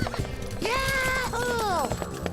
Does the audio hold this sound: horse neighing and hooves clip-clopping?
yes